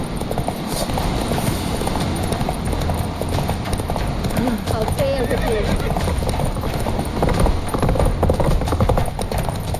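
Geralt's horse Roach galloping in The Witcher 3: rapid, continuous hoofbeats pounding throughout, with a brief whinny partway through, heard under a man's spoken dialogue and game background sound.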